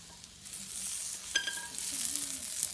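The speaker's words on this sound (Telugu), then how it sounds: "కొద్దిగా నూనె వేసి టమాటాలు వేయించి" Tomatoes frying in a little oil in a home kitchen for tomato coconut chutney, a steady close sizzle that swells after a quiet start, with a brief clatter of a utensil partway through.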